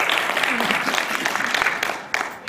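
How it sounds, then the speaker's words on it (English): A convention panel audience bursts into steady, dense applause for a cosplayer, loud and sustained throughout with a slight fade near the end. "Give it a round of applause."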